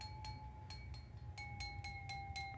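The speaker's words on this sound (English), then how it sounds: "Then we took a little glass with an eraser" Small glass tapped with a pencil eraser for different tones, producing a run of soft pinging clinks in an uneven rhythm, faint and close over a low background hum.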